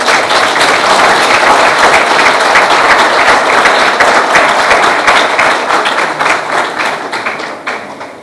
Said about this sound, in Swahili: Anastahili makofi hayo